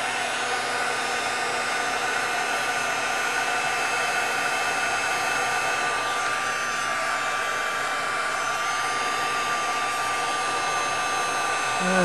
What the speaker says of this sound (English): And then we'll use the heat tool again.